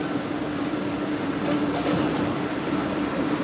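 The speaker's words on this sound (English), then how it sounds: "it's about to leave the old red line train." An old MBTA Red Line subway train departing, a steady loud rumble and hum of motors and wheels filling the station with no break.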